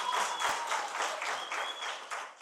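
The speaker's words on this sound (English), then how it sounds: "A round of applause for Olena." Audience applause at a poetry slam competition, Poetry Africa 2025, welcoming a judge: a dense, steady wash of many hands clapping, fairly loud and close, sustained through the whole moment with no voices.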